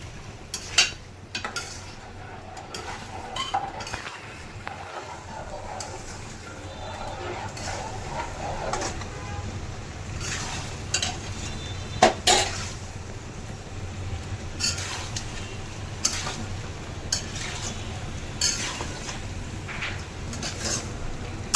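Meat and spices cooked in a pot for Haji-style biryani: a metal spoon scrapes and clacks irregularly against the pot over a low, steady sizzle, with a few sharper knocks along the way.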